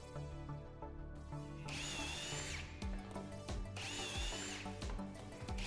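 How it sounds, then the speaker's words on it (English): Power drill boring shelf pin holes through a jig into the side of a face-frame base cabinet, two loud sustained whining bursts over a steady motor hum, close by with no talking. "I used a shelf pin jig to drill shelf pin holes into the sides of the cabinet"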